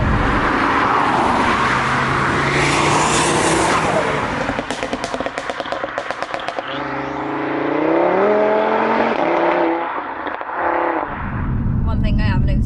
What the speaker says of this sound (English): the unusual thing is the turbo flutter